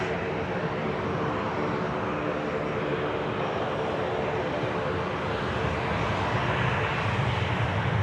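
Qantas Freight aircraft VH-EFR arriving at Sydney Airport, a steady broad engine roar held at an even level throughout, heard alone from a distance without talk.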